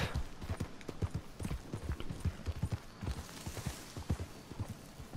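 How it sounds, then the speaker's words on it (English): A horse walks in the video game Red Dead Redemption 2, hooves clip-clopping in a steady, uneven rhythm on the ground in the mountains, faint and close, with no talking. "Sorry, Roach!"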